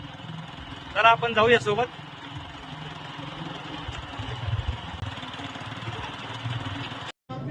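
A Luna moped engine puttering at low idle after a kick start, heard faintly and steadily under someone talking near the start, with a brief dropout near the end.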